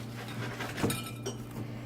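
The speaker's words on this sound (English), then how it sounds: "I toasted some bread to get it crispy. I'm going to mash it with this whisk." A wire whisk clinks and rattles against a bowl while mashing crispy toasted bread into breadcrumbs, giving a few scattered taps and one sharper clatter over a low steady hum.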